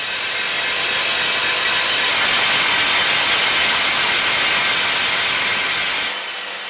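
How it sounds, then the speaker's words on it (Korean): A large drilling machine bores holes into a jade rock wall in a mine, giving a loud, steady grinding hiss that runs continuously and then drops off abruptly near the end. "깨질세라 온 신경을 집중해 거대한 천공기로 옥벽에 구멍을 뚫습니다"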